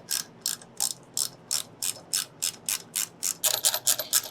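A ratchet wrench clicks in quick bursts while grade 8 bolts are tightened on Harley-Davidson motorcycle handlebar risers, about a dozen crisp, close ratcheting strokes in a steady rhythm that speeds up near the end, with no talking.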